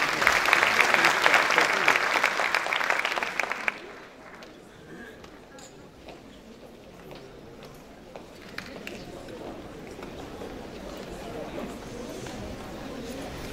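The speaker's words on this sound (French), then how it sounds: "Mesdames et messieurs, sous vos applaudissements, Madame Sana El Hlou." An audience at a talk applauds to welcome a speaker to the stage. Dense clapping holds for about four seconds, then stops abruptly, leaving quiet room noise.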